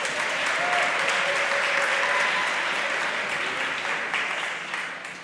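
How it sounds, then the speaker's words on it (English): Audience applauding the vice-chancellor at a university student affairs dialogue event, a sustained full burst of many hands clapping that stays strong and then gradually tapers off toward the end. "A round of applause"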